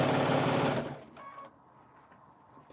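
A sewing machine quilting an old unfinished project runs in a loud, fast, buzzing whir for about a second, then stops, leaving quiet room noise.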